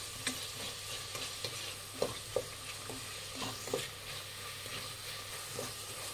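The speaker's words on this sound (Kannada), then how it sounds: "ಮೆಂತ್ಯ ಸೊಪ್ಪು ಚೆನ್ನಾಗಿ ಫ್ರೈ ಆಗಿದೆ" Fenugreek leaves fry in a pan and are stirred, a soft continuous sizzle broken by scattered scrapes and taps of the spoon against the pan, fairly quiet and close, with no talking.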